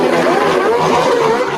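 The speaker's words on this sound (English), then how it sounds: "Even a group of motorcycles revving their engines in celebration." A group of motorcycles revs together at a street celebration, producing a loud, dense, continuous engine roar with no clear breaks.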